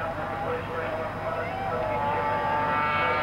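Racing sidecar motorcycles, including a Yamaha 700 ground effects outfit, at the 1983 Australian Sidecar Grand Prix at Bathurst: a steady droning engine roar held throughout at moderate distance, with no pauses.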